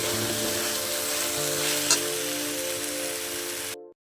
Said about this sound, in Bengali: দিয়ে আমি ভালো করে নেড়ে চেড়ে কষিয়ে নেব।